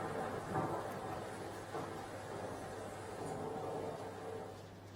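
Heavy monsoon rain pours steadily across Surat district during flooding, a dense continuous hiss with low rumbling undertones, moderately loud and unbroken throughout, with no voices.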